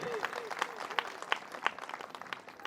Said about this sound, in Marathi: जरा जोरदार टाळ्या द्या या पोत्राजांसाठी